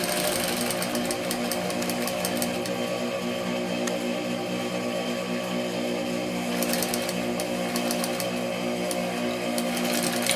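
A sewing machine runs steadily, stitching a flat-felled French seam in fabric, its fast mechanical whir continuous and close with light rhythmic ticking throughout, no voices over it.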